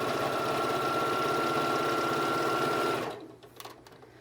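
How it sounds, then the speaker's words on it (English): A sewing machine stitches a quilted, self-binding table cloth, running in a steady, close, fast whir for about three seconds before stopping abruptly, leaving only faint handling noise. "And just let me sew it."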